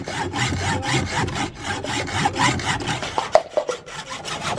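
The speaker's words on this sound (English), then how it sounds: "I'm going to show you guys with a hacksaw, and this is going to make it a pretty easy, clean cut" A hacksaw cuts through a workpiece in rapid, even back-and-forth strokes, a gritty rasping rhythm close up and fairly loud, with no talking.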